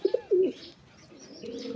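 A native Gola pigeon and a Rasgolla pigeon give a few low, close coos in short bursts, then a softer drawn-out coo after a brief pause, with no talking.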